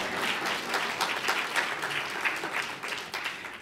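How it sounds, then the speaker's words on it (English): Steady applause from a crowd at a college Juneteenth celebration fills the whole stretch, dense and continuous clapping without a break. "I need an applause for that."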